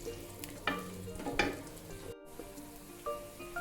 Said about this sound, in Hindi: तो इसमें हम डाल देंगे प्याज को हम हल्का सा गोल्डन करेंगे